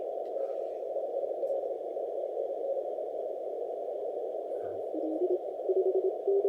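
Morse code CW signals on the 10 meter amateur band from a Cameroon DX station, heard as steady keyed tones over a constant band of receiver hiss, with a louder keyed signal near the end.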